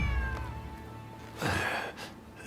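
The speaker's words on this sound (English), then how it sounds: "Who'd have thought a stray cat would wander in?" A stray cat meows in the Rise of the Ronin video game, two drawn-out cries close by, the second louder and brighter, over quiet ambience.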